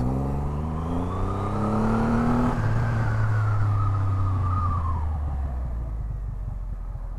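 A Triumph Rocket 3 R motorcycle's big triple engine drones steadily while riding, pitch climbing through a gear then rising again, with wind rush and no talking.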